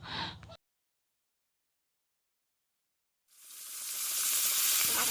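Fish sizzling and frying in a pan in a home courtyard kitchen, with a steady, bright hiss that swells in after a short pause and holds loud and close to the end.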